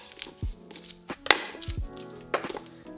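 A paring knife cuts a shallot on a board, with several crisp, separate taps and slices spaced irregularly, close and moderately quiet, with no talking.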